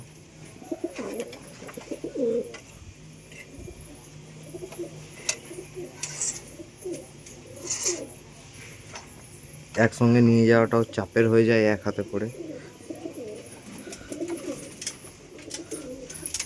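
Pigeons at a pigeon house coo softly and intermittently, mostly low and close, with one louder burst of cooing, while a person talks over them.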